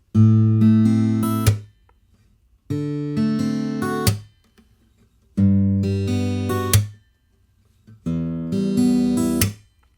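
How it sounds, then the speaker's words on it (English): Guitar fingerpicking a chord progression, plucked notes ringing in four phrases separated by short silences, clear and close. "So in total, the finger picked verse sounds like this."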